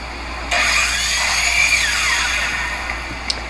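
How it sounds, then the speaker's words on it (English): A miter saw clips the corners of wooden beehive frame top bars. The motor starts abruptly into a loud, sustained whine, the blade bites through the wood with a rising and falling tone, then the saw winds down and a short click follows. "Here's one method using the miter saw."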